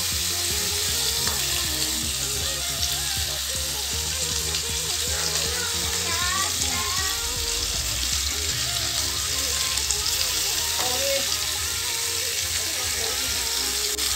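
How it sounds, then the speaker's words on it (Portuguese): Margarine sizzling and frying in a pan for a home Sunday lunch, a steady continuous crackle throughout with faint kitchen sounds beneath. "Vou deixar fritar a margarina"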